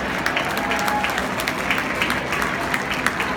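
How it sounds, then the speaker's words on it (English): Audience applause after a donation announcement at an Akron Children's Hospital event, a steady mass of clapping hands sustained throughout, fairly loud and even with no talk over it. "please give them a round of applause"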